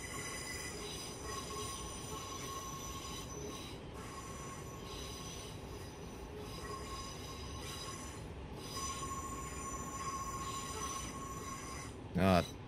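Steel train wheels squeal continuously against the rails through a curve in a Train Simulator Classic run on the Harrogate Loop, a steady high-pitched whine over rumbling running noise, with a brief louder knock near the end.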